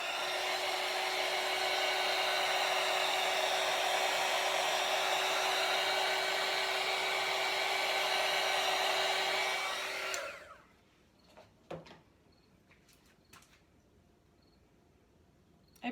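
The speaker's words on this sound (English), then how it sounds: "Let me hit it with the heat gun." A heat gun blowing hot air over a wood canvas with a string-pull painting: a steady, close, whooshing blower hum with a fixed motor tone runs for about ten seconds, then switches off, leaving faint clicks and handling noises.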